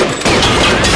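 Gunfire in an action scene from an Indian film: a loud, dense burst of rapid shots lasting about a second, with no speech.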